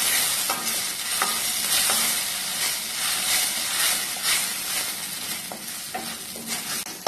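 Ground tomato and onions for Kerala-style chickpea curry sizzle and fry steadily in a pan, with a spoon scraping and stirring through at intervals, close and continuous with no talking.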